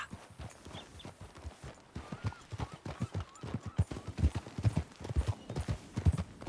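Horse hooves trot in a steady clip-clop rhythm on a ranch in a video game, likely Red Dead Redemption 2, close and fairly loud, with faint game voices and ambience underneath.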